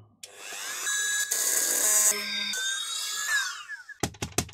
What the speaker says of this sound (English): So the Dremel's going to be loud.